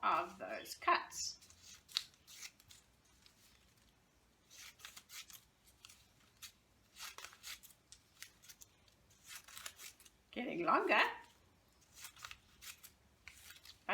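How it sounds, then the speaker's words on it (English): Scissors cut through a sheet of paper at a school assembly, with a short burst of close snipping near the start and another about ten seconds later, while a voice talks between the cuts. "I'm going to turn around and I'm going to cut into the middle of those cuts."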